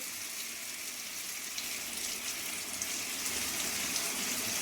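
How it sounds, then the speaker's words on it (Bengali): Water poured into a pan of potato curry, a steady continuous gushing pour lasting the whole time, close and even in loudness with no talking. "এবারে আমি জল দিয়ে দেবো।"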